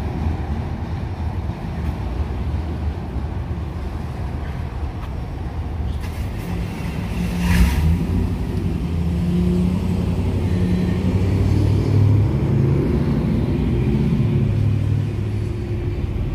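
A heavy CSX freight train street-running through La Grange, Kentucky rumbles past close by, a steady low roar that swells midway and keeps grinding on, with a brief sharp clank partway through.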